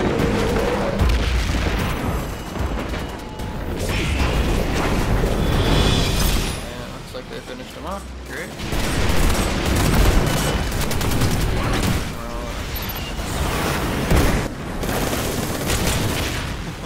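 Rockets explode and guns fire in Destiny 2 during the Injection Rig public event, with heavy booms and bursts of gunfire in a dense, loud battle mix.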